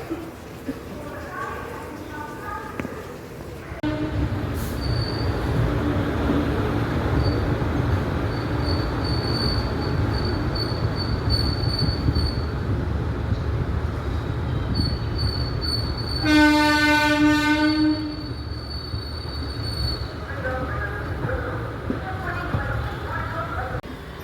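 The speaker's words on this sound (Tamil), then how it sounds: "தஞ்சாவூர் வந்து கரெக்டாக இப்போ 6 வந்துட்டு நம்ம ட்ரெயின் வந்துருச்சிங்க" A train pulls into Thanjavur station on a rainy evening, its loud rumble and wheel noise rising after a quiet start, with a long horn blast blaring midway and sustained rolling clatter throughout.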